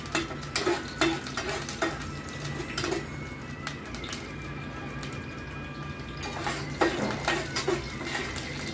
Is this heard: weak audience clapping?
no